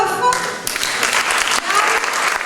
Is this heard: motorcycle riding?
no